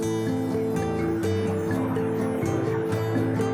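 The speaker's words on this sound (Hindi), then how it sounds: "बहुत ही सुंदर शावर जैसे वाटरफॉल है। ये जैसे शावर आ रहे हैं।" A shower-like waterfall on the mountain road from Bharmour to Kugti gives off a steady, dense rush of falling water that stays loud throughout, with a low tonal hum mixed in.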